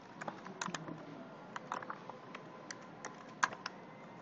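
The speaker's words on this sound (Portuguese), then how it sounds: "Vou digitar meu nome aqui certinho." Someone types a name on a computer keyboard, giving a quiet, irregular run of light key clicks close by, with no talk.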